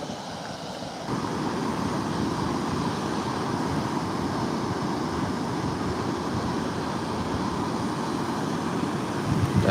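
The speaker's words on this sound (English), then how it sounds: "Can you hear the waves crashing?" Ocean surf at a busy swimming beach rolls in as a steady, dense roar of breaking waves mixed with wind buffeting the microphone, continuous and loud with no talking.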